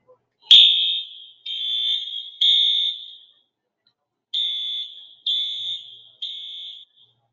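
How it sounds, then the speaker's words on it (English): Emergency alarm at an oil and gas site sounding loud intermittent beeps, six sharp electronic tones in an uneven rhythm separated by silence, clear and close. "you will hear the emergency alarm, which is a loud intermittent beeping sound with white emergency strobe lights flashing."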